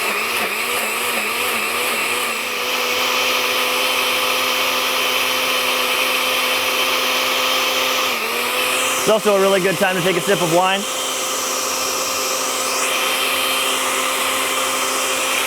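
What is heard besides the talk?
blender blending sauce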